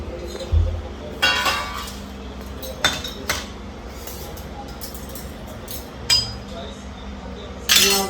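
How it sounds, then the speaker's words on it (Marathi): Tea cups are taken out one by one at home, giving a handful of scattered ceramic clinks and knocks, close, with light household noise between them. "मी सर्वांची कप्प काढून घेते."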